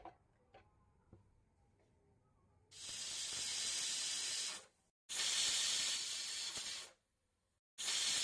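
A pressure cooker of cabbage and water on a gas stove lets out three loud hissing bursts of steam, each about two seconds long with short silent gaps between them, after faint ticking.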